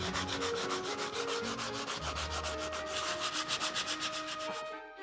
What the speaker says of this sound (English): I'll just go over it with the sandpaper.